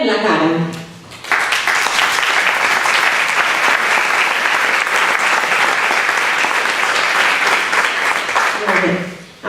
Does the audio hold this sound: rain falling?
no